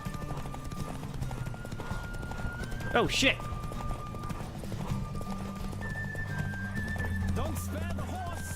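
A horse in Witcher 3 gallops with rapid hoof clip-clops throughout and lets out a sharp whinny partway, under background game music and someone talking.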